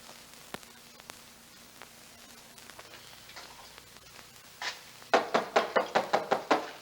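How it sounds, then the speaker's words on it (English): Knocking on a door in a quiet home: faint room hush and a few soft ticks, then a rapid, even run of about eight firm knocks that ends the stretch. "Somebody's knocking."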